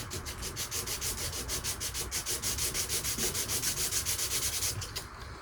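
A sanding block with 320 grit sandpaper scuffs a surface in fast, even back-and-forth strokes, a loud, close, continuous rasp with no talking.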